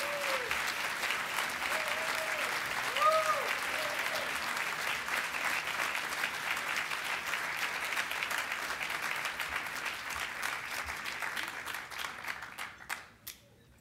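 A large conference audience applauds steadily for a keynote speaker at a homelessness conference, a dense, sustained wash of clapping that fades out near the end, with a few brief voices early on.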